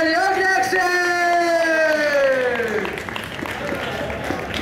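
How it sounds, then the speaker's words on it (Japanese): A crowd at a 2016 Kansai regional tournament in Osaka bursts into applause and whoops for Ibuki and OCHIO, with a loud sustained yell from the emcee trailing into clapping and cheers. "もう一応イブキとマッチョに大きな拍手。"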